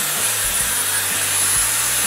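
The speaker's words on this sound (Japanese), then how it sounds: "根元側をしっかりドライヤー当ててあげた方がいいんですね" A hair dryer blowing steadily on the roots of permed hair at home, a continuous loud broadband whoosh with a low motor hum throughout, no voices.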